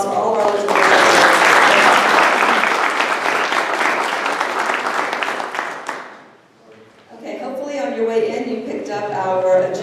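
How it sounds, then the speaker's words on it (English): An audience at a January community civic meeting in Duval County applauds its elected officials, steady clapping filling the room for about six seconds before fading, then a person speaks. "So if we can have a round of applause for all of our elected"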